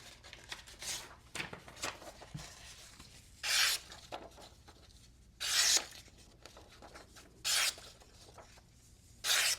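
Knife blade slicing through paper, several bright crisp swipes with short pauses between them, close and clean with no talking.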